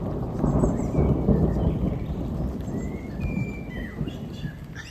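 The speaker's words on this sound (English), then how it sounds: "it's just suddenly started raining and thundering." Low, rolling thunder rumbles steadily throughout, with the patter of rain and faint birdsong above it.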